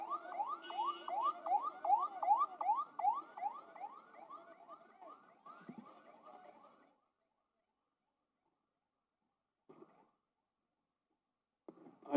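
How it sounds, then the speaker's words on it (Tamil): Ambulance siren passing a roadside crowd at a political event: a rapid, repeating warbling wail that starts fairly close, fades steadily over about seven seconds into silence, followed by a couple of faint brief noises. "வழி விட்டுருங்க. ஆம்புலன்ஸ்"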